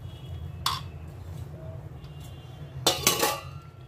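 Raw mango pieces are stirred into pickle masala, with two distinct bursts of metal spoon clinking against a bowl, one short and one longer, over a quiet low hum.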